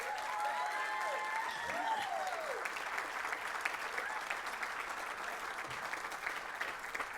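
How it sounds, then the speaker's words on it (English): Applause at a Bethel College convocation, soft and distant steady clapping from an audience that continues throughout, with faint sliding tones of feedback or ringing near the start. "she deserves a round of applause for that"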